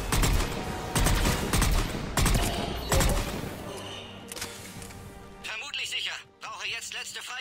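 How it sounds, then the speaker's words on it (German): Loud gunfire bursts in Mass Effect 3 repeat in heavy volleys through the first several seconds and then thin out as the battle noise continues. "Liege unter Beschuss."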